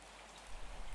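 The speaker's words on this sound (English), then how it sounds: "I just stood there watching the rain, listening to it," Steady morning rain falls in a dense, even hiss that swells a little louder partway through, with no voices.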